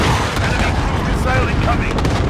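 Cluster strike explosions in Call of Duty: Modern Warfare form a dense, loud, continuous roar of overlapping blasts and gunfire-like cracks, with faint voices mixed into the din.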